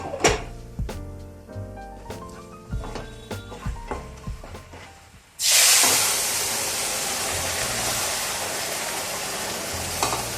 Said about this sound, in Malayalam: നമുക്കിതിലേക്ക് വേവിച്ച് വെച്ച കടല ചേർത്ത്